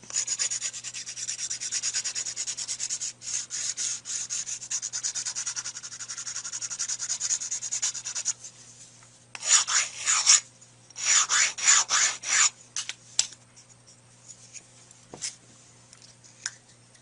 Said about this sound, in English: I use sticks with sandpaper on it. This is a 240 grit.